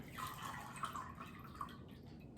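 Water trickles and drips quietly into a salad spinner bowl while greens are rinsed for a big salad, with soft irregular splashes and plinks at close range and no voices.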